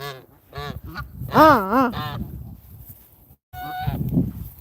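Several geese honk loudly nearby in a burst of overlapping calls, pause briefly, then honk again.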